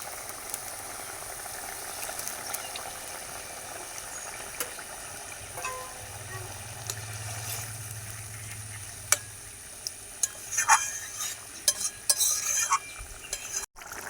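Paneer simmers in a pan with a soft, continuous bubbling hiss, broken by occasional scrapes and clinks of a spoon stirring, growing busier toward the end, with no voices.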